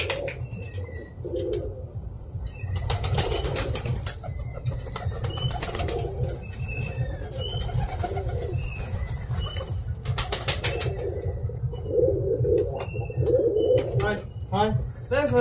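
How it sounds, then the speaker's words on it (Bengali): Caged pigeons coo in soft, repeated bursts near at hand as they are let out, with occasional wing flaps and chirps from other birds, over a steady low background. "এইবার ছাড়তে হবে আমাদের এই খাঁচার পায়রাগুলোকে"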